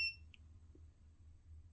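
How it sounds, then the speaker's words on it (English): An EcoFlow DELTA portable power station gives a single short, high electronic beep at the start as its X-Boost mode is switched on, then only a faint low hum remains. "You heard the beep"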